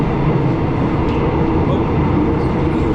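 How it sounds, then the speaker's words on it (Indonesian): Steady, loud rumble of the Soekarno-Hatta airport train riding toward Jakarta, heard from inside the carriage as a continuous low roar of wheels and motion with no talking. "Dan di sini aku 1 orang yang naik kereta api ini."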